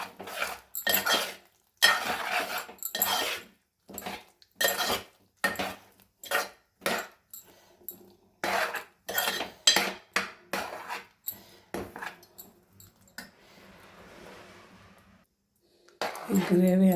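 A thick curry of meal maker chunks with a ground sesame paste is stirred in a metal pot, giving a run of repeated scraping and clinking spoon strokes at close range, with a short pause in the stirring before it picks up again.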